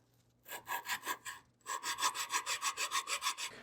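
A Model T wrench being hand-sanded with 320 grit sandpaper: close, steady back-and-forth rasping strokes in two runs, a short burst of about six strokes, a brief pause, then a longer, quicker series, with no talking.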